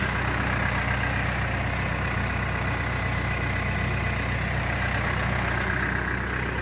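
A backhoe engine runs at a steady drone while the machine lifts a shipping container on a chain. The rumble is loud, close and unbroken, with no voices over it.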